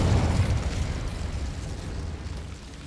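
Confringo fire blast spell in Hogwarts Legacy, a deep booming burst that rolls out and fades into a lingering rumble.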